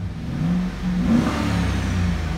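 Close, steady drone of a 2009 Chevy Silverado 4.8L LY2 V8, fully warmed up and held high at the rev limiter in park, a loud sustained engine roar with slight wavering in pitch.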